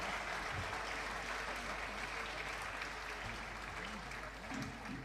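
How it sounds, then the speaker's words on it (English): A steady round of applause for a speaker in a conference amphitheatre. The clapping sounds even and somewhat distant, and faint murmuring voices run underneath it. "Let's give him a round of applause."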